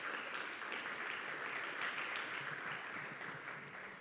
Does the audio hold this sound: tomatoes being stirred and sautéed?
no